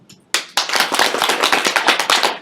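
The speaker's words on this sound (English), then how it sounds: "if you clap your hands." A burst of hands clapping, rapid and fairly even, loud and close, starting after a brief quiet moment.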